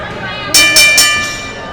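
A wrestling ring bell clangs three times in quick succession at a match, sharp metallic strikes over a steady bed of arena noise.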